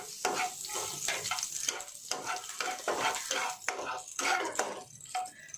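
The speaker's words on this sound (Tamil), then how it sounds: "ஸோ ஆயில் சூடானது கொஞ்சமாக லவங்கம் பட்டை அதுக்கப்புறம் சோம்பு சேர்த்துருக்கேன் நான்" Whole cloves, cinnamon and fennel seeds fry in hot oil in a kadai for a mushroom curry: a close, steady crackling sizzle broken by repeated scraping stirs against the pan.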